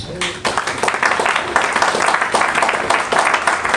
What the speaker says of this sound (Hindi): अपनी सफलता के लिए बहुत हल्की सी तालियां थी पीछे से।